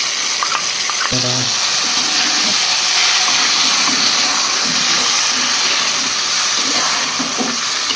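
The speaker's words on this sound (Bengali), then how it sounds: "জলটা দেওয়া হবে এরকমভাবে এরমভাবে দেবেন আস্তে আস্তে করে একটু একটু করে" Water poured slowly into a simmering rohu fish curry with potatoes sends up a loud, steady hiss and sizzle. Faint, brief clinks sound near the start.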